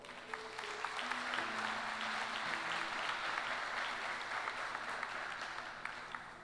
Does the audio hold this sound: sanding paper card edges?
no